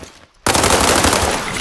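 Automatic gunfire in the video game World War 3 bursts in abruptly after a near-silent moment, a dense, loud, continuous rattle of shots that holds steady to the end.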